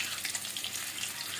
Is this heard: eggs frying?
yes